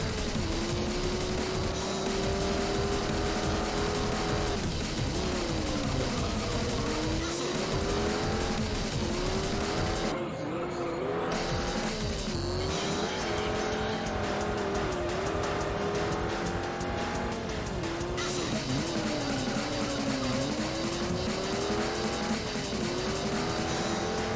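A Dodge Viper races in the game Juiced, its engine note climbing and falling through repeated gear changes, with tire squeal and skids; loud, continuous and close, with no talking.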